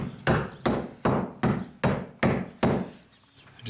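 Hammer driving protruding nails back into bare wall studs while preparing a wall for pegboard, six sharp evenly spaced blows, close and loud.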